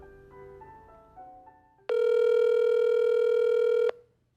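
Telephone dialing for a phone interview: a quick run of keypad tones from a landline-style phone, followed by a loud, steady dial or ringback tone lasting about two seconds, with no one talking.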